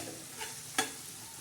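Wild tandulja greens fry on a flat iron griddle with a faint, steady sizzle, broken by one sharp scrape of a stirring spatula partway through.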